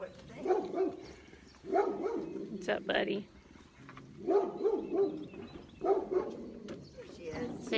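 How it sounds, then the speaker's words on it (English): Dogs on a farm bark in the distance in short repeated bursts, lying under a man's close, casual talk throughout. "you can hear the dogs barking in the back"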